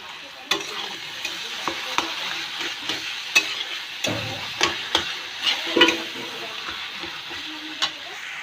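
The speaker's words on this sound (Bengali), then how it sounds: "আমি এখানে 2টি মাছের মাথা দিয়ে দিয়েছি। এখন 5 মিনিট সাঁতলিয়ে নেব" Two fish heads sauté in a pan for a Bengali bottle gourd dish, a soft steady sizzle broken by scraping stirs and sharp clicks of a spatula against the pan, close and fairly quiet.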